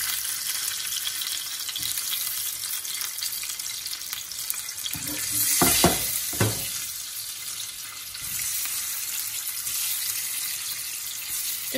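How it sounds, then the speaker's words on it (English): Eggs frying in hot oil in a frying pan while an egg bhuna curry is cooked, a steady close sizzle that swells into louder spitting bursts midway. "The oil is hot now. Now I will add my eggs"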